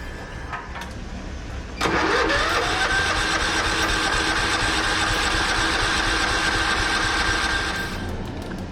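A Scotts riding mower's small engine cranks over continuously for several seconds with a whirring, labored starter sound that never catches, then winds down.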